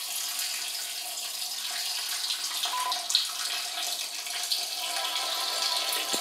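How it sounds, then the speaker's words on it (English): A steady stream of liquid splashes into a toilet, a sound effect in the Among Us game, running as a continuous watery hiss without pause for several seconds. "Don't judge the man peeing in the toilet."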